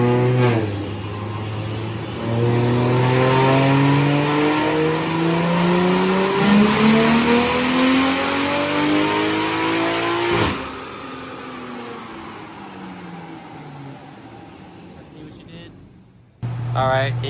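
A big-turbo BMW 340i revs hard on a dyno run, its engine note climbing through the gears to a loud peak, then cutting off and winding down as the rollers spin to a stop before it idles again.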